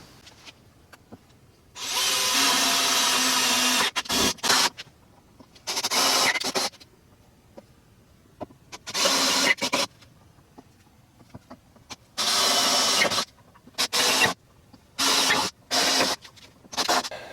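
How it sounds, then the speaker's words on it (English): A power drill bores holes into wooden tenons in a woodworking shop, running in repeated loud bursts of a few seconds each, separated by short quiet pauses and brief whirs as the drill starts and stops. "When I drill these holes in the tenons, I have marked with my drill bit the exact center."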